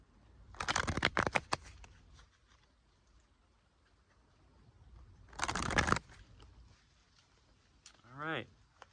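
Tarot cards are shuffled in two close, crisp riffling bursts separated by a quiet pause, followed by a brief soft sliding sound as a card is drawn.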